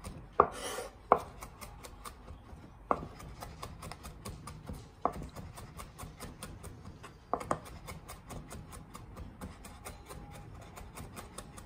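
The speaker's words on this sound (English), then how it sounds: "I'm just going to go back and forth and chop it into smaller pieces." A knife mincing garlic on a cutting board, with rapid rhythmic chops going steadily back and forth and a few louder knocks near the start. The sound is close and clear with no talking.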